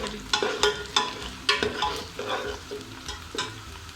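Sliced onions fry in oil with cloves, black cardamom and cinnamon pieces, a soft sizzle under repeated sharp scrapes and knocks of a spoon stirring the pan, close and moderately loud.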